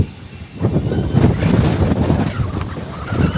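Strong gusts buffet the microphone outdoors beside a swimming spot in cold weather, a loud, low rumbling roar that swells and lingers for several seconds with no talk.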